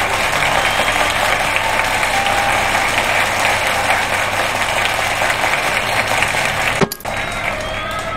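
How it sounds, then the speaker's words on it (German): Crowd applause in the video game The Night of the Rabbit, a steady dense clapping wash at even loudness through most of the stretch, broken by a sudden sharp transient near the end before the clapping carries on. "Applaus, meine Herrschaften."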